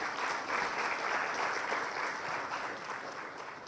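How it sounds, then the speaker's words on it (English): Graduates and their parents clap together at an honours ceremony, producing a steady, full round of crowd applause that holds evenly throughout. "Give yourself a good hand of applause, and your parents do the same."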